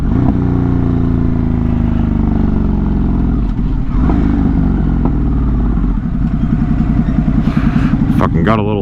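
A Ducati Hypermotard 950 RVE motorcycle rides through an urban area, its engine droning and shifting pitch up close, then revving sharply near the end.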